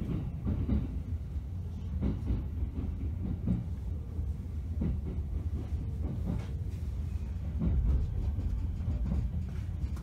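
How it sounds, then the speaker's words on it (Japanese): Steady low rumble of a JR train rolling along rails, with periodic rhythmic clacks from wheels over track joints, continuous and fairly close, arriving at Numazu terminal. "列車は終点の沼津に到着しました。"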